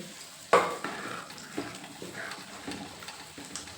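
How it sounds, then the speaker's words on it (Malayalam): Dried fish frying in a pan, a faint, soft sizzle behind a sharp clatter near the start and several lighter knocks and scrapes of utensils in a home kitchen. "ഞാനിവിടെ ഉണക്കമീൻ പൊരിക്കാൻ വെച്ചിരിക്കുകയാണ് അപ്പുറത്ത്."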